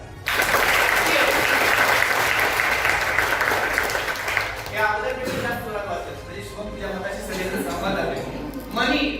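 A seminar audience at an entrepreneurship development event in Baramati, Pune breaks into loud, sustained applause for about four seconds, which then thins into scattered claps under talking and murmuring voices.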